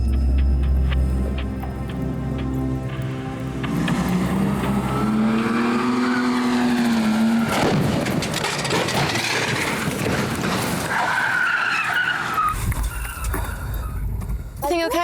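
A stunt car's engine revs and roars as it drives off, rising in pitch, then tires screech and skid before a rough crash-like burst as the car rolls over; loud and close, with voices over the engine.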